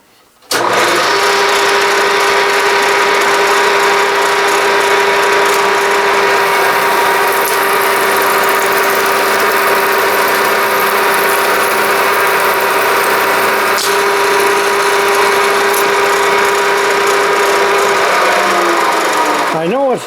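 A standard split-point drill bores into an aluminum sample, giving a loud, steady high-pitched motor whine with constant buzzing vibration that holds unchanged for nearly the whole stretch before winding down at the end.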